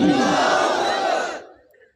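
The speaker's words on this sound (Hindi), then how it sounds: "जरा एक बार तो नारा लगाइए, नारे तकबीर" A large crowd roars a Takbir slogan in unison at a religious gathering, a loud, full-throated collective shout lasting just over a second before trailing off into silence.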